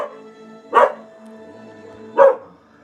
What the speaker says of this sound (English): That is what they're barking at.